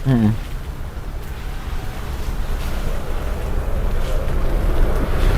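Outdoor wind rushes continuously across the microphone, a loud, low, blustery roar that builds slightly over the stretch, with a voice heard briefly at the start.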